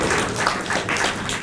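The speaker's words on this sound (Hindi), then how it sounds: "एक बार जोरदार तालियों से इनका अभिनंदन कीजिए" Steady, dense applause from an audience at a Hindi poetry recital fills the moment, loud and continuous with no breaks.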